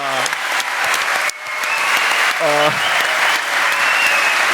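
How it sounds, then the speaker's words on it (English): An audience applauds loudly and steadily for surprise guest Nikos Galis at a basketball event, with a voice speaking briefly over the clapping. "I want one more round of applause for our surprise guest,"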